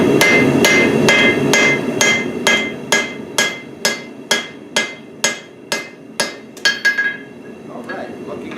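A hammer forges and flattens a hot axe head, ringing out a series of about a dozen sharp, metallic blows that start fast and loud and then slow into a more spaced, steady rhythm.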